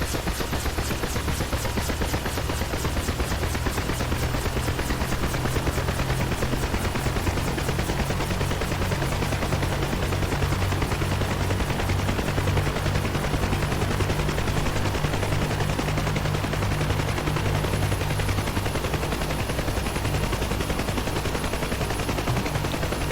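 Steady, loud rhythmic whine and chop of a UH-1 Huey helicopter rotor and turbine running up toward full RPM in DCS World, a constant dense mechanical roar with rapid blade pulsing throughout and no talk.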